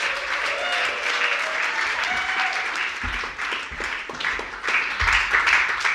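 Sustained audience applause fills a company all-hands meeting, a dense, steady wash of many hands clapping with scattered louder claps and some faint voices mixed in.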